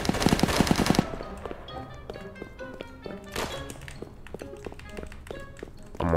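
Gunfire in a street hood video game: a rapid automatic burst at the start, then scattered lighter shots and taps continuing at moderate loudness, with no talking.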